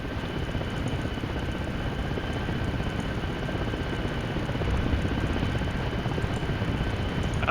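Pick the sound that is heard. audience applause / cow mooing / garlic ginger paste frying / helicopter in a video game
helicopter in a video game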